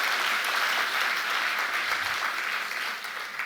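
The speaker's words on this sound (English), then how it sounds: "Let's have another round of applause for His Excellency's speech" Sustained audience applause following a dignitary's speech at a formal carbon markets event, a dense, steady wash of clapping filling the room and tapering slightly near the end.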